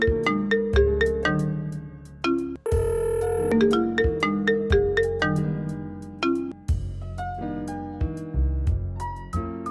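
A phone ringtone plays a bright, repeating melodic tune loudly and clearly, looping without pause as the call goes unanswered.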